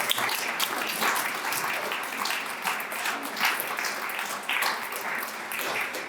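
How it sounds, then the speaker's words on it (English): A room full of people applauding at a nonprofit arts fundraiser, brisk clapping with slight swells and dips, sustained and fairly close. "I will share that round of applause with her."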